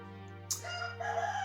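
In early morning, a rooster gives a single crow that swells after a brief sharp onset. The call is clear, sits at moderate distance and stands alone.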